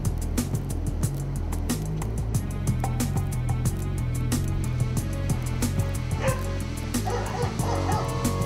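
Dogs bark in quick yips with whimpers between them, close and fairly loud, heard over a steady low rumble with a faint voice in the background.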